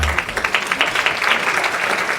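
An applause sound effect is played during a live safety talk show, a brisk patter of many hands clapping at fairly close range with a quick, even rhythm and no voices over it.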